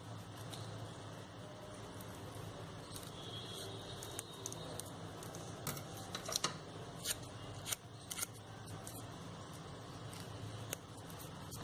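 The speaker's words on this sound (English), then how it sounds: "Take the second piece of the sepal, the smaller one, and cut 5 long triangles on it" Scissors snipping crepe paper into thin triangles for a flower sepal, a few short, soft cuts, close but quiet, over a low steady background hum without talking.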